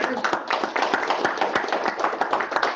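A small audience claps for a colleague at a sales meeting, brisk uneven hand claps filling a few seconds at close range.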